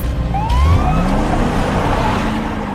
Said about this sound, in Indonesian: Mereka pun segera bergegas membawa Zack menggunakan mobil ambulan.